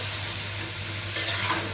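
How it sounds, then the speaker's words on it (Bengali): Food with turmeric and salt sizzles and is stirred in a small kadai, a steady close frying hiss with a brief louder scrape of stirring partway through. "হলুদ লবণ দিয়ে একটু ভালো করে কষিয়ে নেব"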